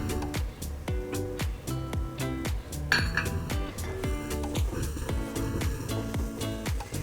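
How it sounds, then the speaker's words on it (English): A utensil clinks repeatedly against a pot as sugar is stirred into caramelizing onions, a steady run of close metallic taps and scrapes through the whole stretch. "I'm going to stir in the sugar."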